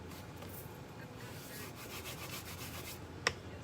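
Sandpaper rubbing back and forth on a craft piece, a soft continuous rasping with rhythmic strokes and a brief tap near the end.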